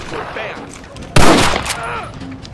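Gunfire erupts in the Western video game Red Dead Redemption, a single loud, sharp blast followed by a rumbling, sustained burst of shots over game ambience and background voices.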